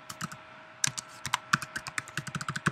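Rapid, uneven keystrokes on a computer keyboard as a short word is typed in After Effects' text tool, crisp close clicks with no talking.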